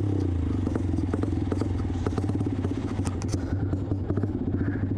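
A motorcycle is kick-started on soft muddy ground, its engine sputtering in a fast, rough putter with some clattering before it falters and dies away, close by and with no voices.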